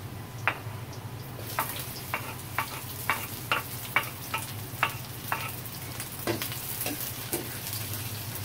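Garlic and onion sautéing in a pan for a shrimp soup, a steady close sizzle punctuated by a regular series of light tapping stirs from a utensil, no speech.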